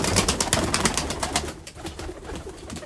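Pigeons give soft, close, repeated coos against a busy background of rustling and fluttering, with the calls thinning out toward the end.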